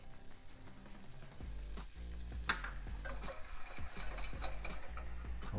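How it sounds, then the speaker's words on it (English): A whisk stirs flour into a pan to make a roux, giving quiet rhythmic scraping and clinking strokes over a low sizzle, with a close metal knock partway through and no speech. "Now, I'm gonna get my whisk out here."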